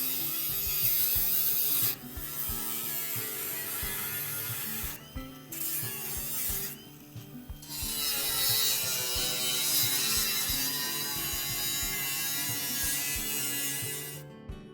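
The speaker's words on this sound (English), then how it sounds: "Look how much material was taken off the cutting wheel during this process" A cutting wheel grinds holes through the steel wall of a shipping container with a steady, loud, high-pitched whine and buzzing rasp. It runs almost continuously, with a few brief dips and pauses along the way.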